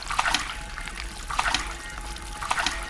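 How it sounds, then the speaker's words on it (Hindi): Hot tap water runs into a bathroom sink while a face is washed, giving a faint continuous trickle broken by soft splashes roughly every second. "और गर्म पानी से अपना चेहरा धोती है।"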